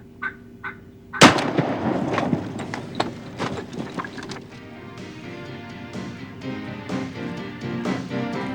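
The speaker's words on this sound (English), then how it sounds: "Shoot that turkey." A single sharp gunshot while hunting wild turkey outdoors in spring, one loud close crack followed by a rolling echo and a few faint knocks and rustles.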